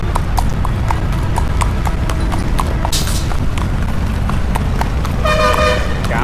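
A horse ridden through Davanagere, Karnataka, clip-clops in a brisk steady rhythm of hoof strikes on hard ground, close and clear, while a vehicle horn toots briefly in the background.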